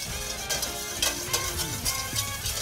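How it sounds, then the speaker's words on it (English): Olive oil dressing is stirred quickly by hand to emulsify, giving soft, rapid rhythmic scraping and swishing, close and steady, no talk. "as I drizzle in your olive oil, you stir that up as quickly as you can until this emulsifies"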